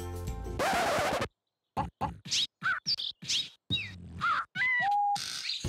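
Colourful-beaked cartoon birds chirp, squawk and pop in quick rhythmic bursts that mimic beatboxing, a string of short close calls broken by brief gaps, with a whistled rising note near the end.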